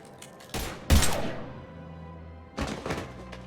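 Gunfire in the video game Mass Effect 3, a few loud, sharp thumping shots with ringing tails, bunched near the start and again after a short pause, no voices.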